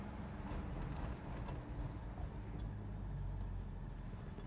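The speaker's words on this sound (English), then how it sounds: "It's go home time here at the sub, so we got a lot of traffic out here." A continuous low rumble of road traffic moving past nearby, with cars blending into a steady roar and no voices.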